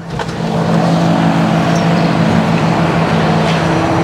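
A tractor with a grain trailer about to tip a load of grain maize, its engine running as a steady loud idle with a constant low hum throughout, close by and without talk.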